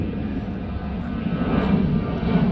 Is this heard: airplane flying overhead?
yes